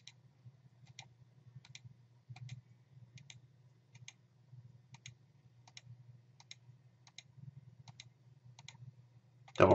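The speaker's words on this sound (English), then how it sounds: "I'm going to carefully click around" Computer mouse clicked at a steady, even pace about a dozen times while measuring in ImageJ, crisp quiet clicks over a low steady hum from the computer, close and without any talking.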